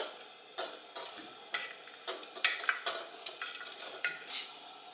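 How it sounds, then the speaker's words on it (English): Meatballs for kofta curry go one by one into a pot, giving a series of light clinks and soft plops spaced about every half second, close and fairly quiet, with no talking. "I'm going to drop this meatball here"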